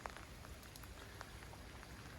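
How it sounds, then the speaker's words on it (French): Light rain falls outside at a building site in Finistère, a steady soft patter with scattered drop ticks, faint and continuous, no voices. "il pleut un petit peu"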